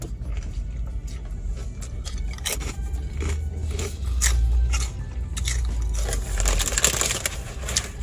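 Crunchy bites and chewing of a Taco Bell crispy chicken cantina taco, close to the mic, with repeated crisp crunches over several seconds and no talking.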